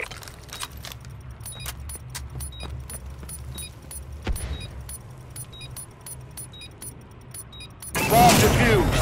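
Bomb-defusal sequence in a tactical shooter video game: a rapid series of short metallic clicks and ticks repeating steadily over a low mechanical hum, ending in a loud burst of noise.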